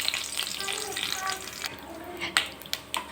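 Mustard seeds, cumin and curry leaves sizzle in hot oil with a busy crackle, then sharp spitting pops burst out in the last second or so, heard up close.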